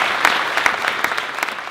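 A short burst of close, loud audience clapping, with individual claps standing out in a dense steady patter.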